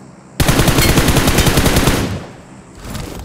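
Machine gun fire erupts in a video game as a loud, close, rapid burst lasting nearly two seconds, then trails off into quieter background game noise.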